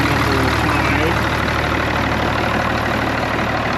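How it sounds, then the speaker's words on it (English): An Allis-Chalmers tractor engine idling close by, a loud steady low rumble that holds even without variation throughout. "Really healthy. Good looking, good sounding tractor."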